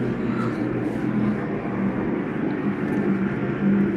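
Grand National Super Series stock cars race past at Dominion Raceway, side by side out of turn two. Their engines form a loud, continuous roar with a rising and falling pitch as they go by.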